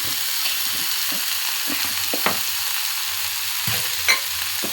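Bitter leafy greens sauté in a pan with a constant hiss, stirred by a spatula in regular scraping strokes with a few sharp clicks against the metal.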